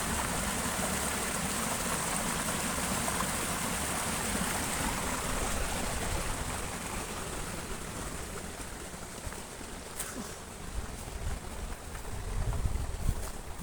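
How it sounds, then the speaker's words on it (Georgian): Water flows down in a continuous broadband rush close by, steady throughout with a slight wind-like roughness and no voices. "აქ წყალი ჩადის, აი თუ დაინახავთ."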